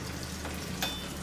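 Beef stew is stirred in a pot, a spoon scraping briefly through a continuous low bubbling sizzle, with a short clatter near the end.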